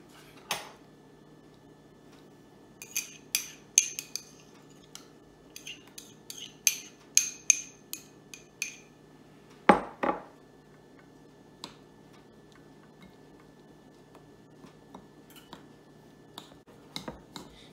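Graham cracker crumbs being stirred into melted butter in a bowl, heard as sparse light clinks and taps of a utensil against the bowl, with a louder knock midway and quiet stretches between.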